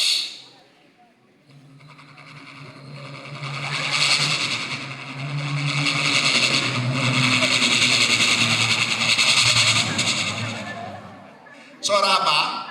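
Children's voices mimic a helicopter at a school storytelling session, a sustained, wavering buzzy drone that swells for several seconds and then trails off, followed by a brief burst of noise.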